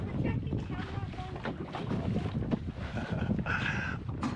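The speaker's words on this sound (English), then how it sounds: "It seems like it's windy all the time here." Gusty trade wind at Tyrell Bay, Carriacou buffets the microphone aboard a sailboat, producing a rough, rumbling roar with brief brighter gusts over a few seconds, with faint voices in the background.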